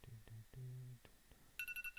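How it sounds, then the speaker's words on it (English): A telephone rings in the Football Manager 2019 game: low electronic tones pulse a few times, then a higher, brighter warble repeats quickly, fairly faint overall. "Oh, phone's going."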